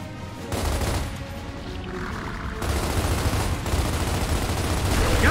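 Dense gunfire in the video game Gears of War Ultimate Edition rattles in rapid, continuous bursts, loud and close, with heavy rumbling impacts underneath and no clear speech.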